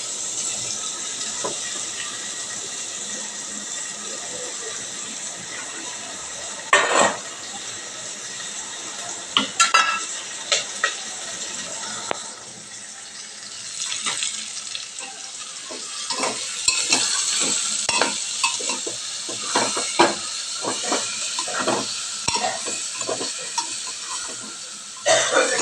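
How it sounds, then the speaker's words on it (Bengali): Chicken pieces fry in oil with chopped onion as a spatula stirs and scrapes the pan, a continuous sizzle under irregular clatters and knocks of utensil against metal, growing busier in the second half. "একটা একটা চিকেন এখন দিয়ে ভেজে নেবো ভালো মতন"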